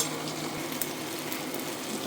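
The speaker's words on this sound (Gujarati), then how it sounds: "ઢોકળા નાખી દેવાના અને તેલમાં ફેરવી નાખવાના" Muthiya dhokla pieces fry in oil and are stirred, giving a steady close sizzle with light scraping under faint background voices.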